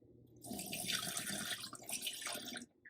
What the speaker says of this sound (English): And then you pour the water in the back,